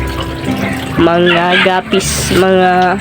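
Water runs steadily while a fish tank is refilled, a constant splashing rush under a person speaking throughout.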